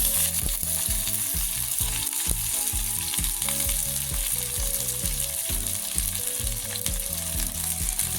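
Chopped onions fry in a hot pan with a loud, steady sizzle, punctuated throughout by rhythmic clattering knocks of a spatula stirring, with no talking.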